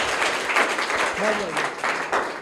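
Students in a private school smart class clap for a classmate's correct answer, a short burst of applause mixed with voices.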